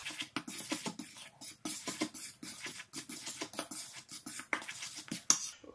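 A spoon stirs pizza ingredients in a bowl, giving a string of soft scraping and tapping strokes in an uneven rhythm, close and moderately quiet.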